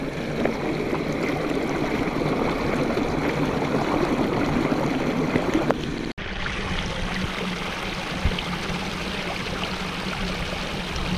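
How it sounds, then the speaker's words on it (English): Alpine creek water flowing steadily over rocks in a forest meadow, a continuous close rushing and trickling wash with a brief break midway, no voices. "this is one of those alpine creeks we talked about"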